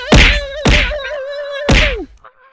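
Three heavy fist punches land in the Gorilla Tag video game, sharp thwacking impacts spaced unevenly over a couple of seconds, loud and close, each followed by a tonal ring.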